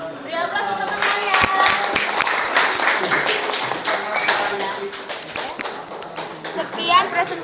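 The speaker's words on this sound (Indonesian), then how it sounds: "Beri aplaus untuk teman saya." Classroom applause for a student group's presentation, a crowd of children clapping in a rapid patter with chatter and voices mixed in, lasting the whole stretch.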